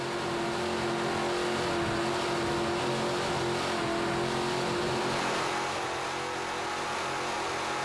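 Offshore racing powerboats at full throttle during the 2004 SBI Marathon Offshore Grand Prix, engines holding a loud, steady high-power roar throughout, with no talk.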